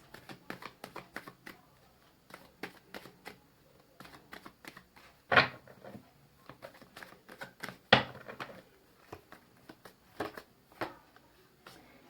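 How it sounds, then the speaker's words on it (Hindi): Tarot cards drawn from two decks: a quick run of small papery clicks and slaps as cards are pulled and laid down, with two sharper snaps standing out midway, close and fairly quiet. "इस डेक से मैं 3 कार्ड निकालूंगी और दूसरे डेक से 2 निकालूंगी"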